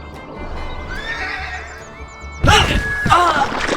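Horses in the Western game Call of Juarez neigh and whinny over steady clip-clopping hooves, then a loud burst of galloping and snorting surges up close near the end, with no talk.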